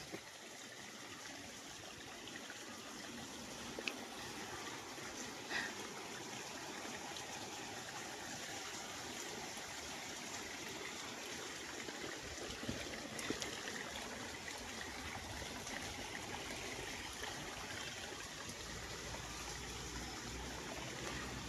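A small stream flowing steadily, a soft continuous wash of water that stays even throughout, with no voices.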